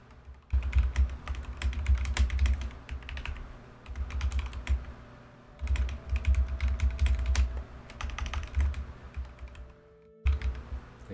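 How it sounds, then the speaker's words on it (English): Quick bursts of typing on a computer keyboard, clustered clicks in several runs with short pauses between them, close and fairly quiet. "And you can hear me typing."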